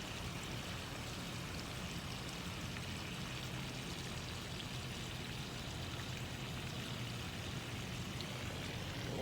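Steady water flowing through shallow puddles on the ground, a continuous broadband rushing and trickling that stays even and close for the whole stretch, with no voices.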